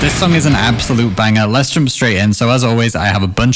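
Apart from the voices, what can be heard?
None of the usual background noises is heard.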